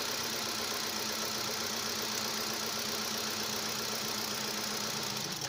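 A car engine idles steadily at low level during a fuel injector test, a continuous even hum with a faint knocking rhythm and no voices.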